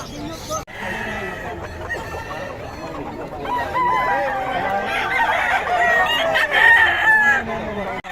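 Several roosters crow loudly and repeatedly in Bocaue, Philippines, overlapping one another, with hens clucking and a person talking in the background.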